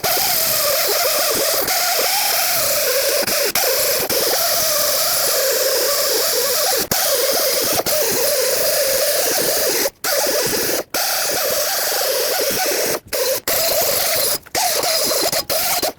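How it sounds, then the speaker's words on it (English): A wire brush scrubs steadily across the wheel hub of a 2009–2014 Honda Fit during a front brake job, a loud, continuous abrasive rasp broken by a few brief pauses. "I do want to take a wire brush to it and clean it down nice and flat"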